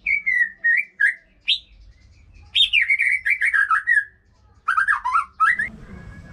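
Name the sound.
white-rumped shama singing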